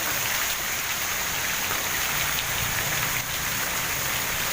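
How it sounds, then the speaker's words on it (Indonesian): Heavy rain pours down on a waterlogged, flooded road, a dense continuous hiss of drops striking water and pavement, steady and loud with no voices for the whole stretch. "semoga hujannya cepat berlalu, cepat berhenti"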